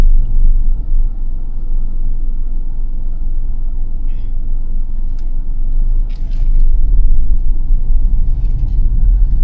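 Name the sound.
car engine pulling away in first gear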